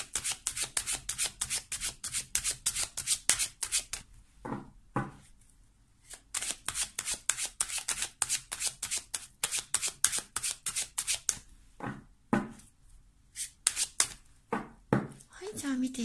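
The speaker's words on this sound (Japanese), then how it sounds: "カードを7枚プラス7枚出していきます" Tarot-style fortune-telling cards are shuffled and dealt out in a long run of quick, close papery riffles and slaps, broken by a few pauses, with someone speaking Japanese over parts of it.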